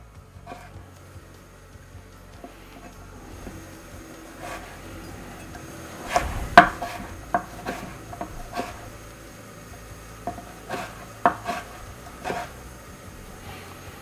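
Knife chopping celeriac into small cubes on a cutting board, a few sharp chopping knocks at first, then a run of scattered quieter taps, moderately close with no talk.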